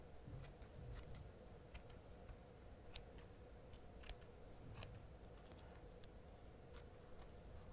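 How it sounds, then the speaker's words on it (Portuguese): Fabric scissors snipping away excess cloth on a patchwork-covered notebook, a steady series of small crisp cuts close up over a faint background hiss. "Agora eu pego a outra tesoura."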